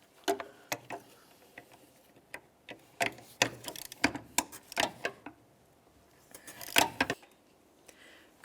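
Ratchet wrench loosening the 12mm master cylinder mounting nuts on a 1999-2003 Toyota Solara, a series of close, sharp metallic clicks and ratcheting bursts with brief pauses between them, no talking.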